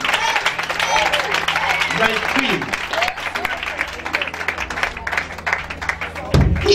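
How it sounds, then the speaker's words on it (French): A church congregation at a French-language prayer and worship service cheering and applauding for Jesus, sustained dense clapping with voices shouting over it, a speaker's voice also heard amid the crowd. "Est-ce qu'on peut acclamer Jésus?"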